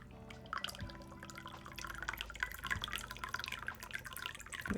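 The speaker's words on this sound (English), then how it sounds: "I'm just pouring some more hot water into my green tea." Hot water poured from a kettle into a cup of green tea, a close, trickling, bubbling stream that keeps going steadily and grows slightly fuller as the cup fills.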